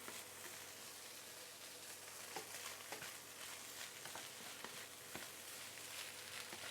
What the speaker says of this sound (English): Now we can raise the heat to medium high to continue frying them.